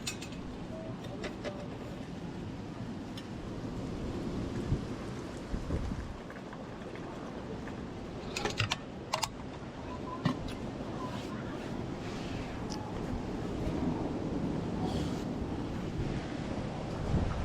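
Steady rain and breaking surf at a beach in Real, Quezon, a broad continuous wash with wind buffeting the microphone and a few brief knocks, heard up close without talk.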